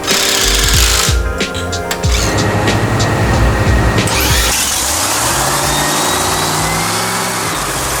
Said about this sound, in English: Looking forward to seeing you warm this car up here in a few minutes